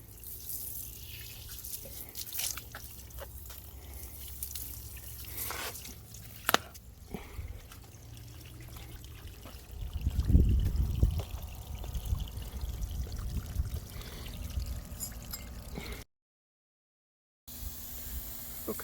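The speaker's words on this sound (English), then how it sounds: "Simulate some rainwater." Water poured onto a lower patio to simulate rainwater draining through a channel drain, a soft pouring and trickling wash rising around the middle and tapering off, fairly quiet, with no talk.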